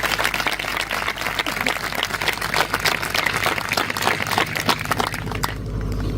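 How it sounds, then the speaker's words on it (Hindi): A church congregation clapping for the word during a sermon, a busy run of many hands at close range that fades out near the end, with some voices mixed in. "आइए इस वचन के लिए ताली बजाएंगे हम"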